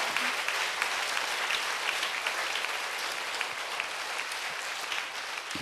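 Sustained applause from a church congregation during a Sunday service, steady dense clapping that fills the whole stretch without pause.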